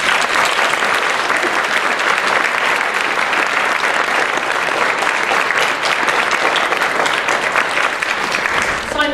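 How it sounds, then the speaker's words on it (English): A large audience at a session applauds in a dense, continuous round of clapping that holds steady and loud throughout. "Let's give you all a round of applause."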